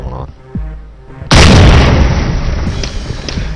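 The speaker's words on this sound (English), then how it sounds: "So when the explosion went off" A loud, close explosion booms in the tactical shooter video game Ghost Recon, a sudden blast after quieter rumbles that trails into a long, broad roaring decay with scattered debris pops.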